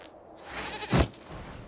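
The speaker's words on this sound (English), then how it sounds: "we discovered this man attacking the building with a goat" Goat bleat in the video game Dragon Age Inquisition, a single loud bleat standing out over a soft background hum.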